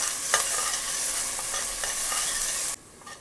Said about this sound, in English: now I'm going to add some onion. Saute it just until it turns its color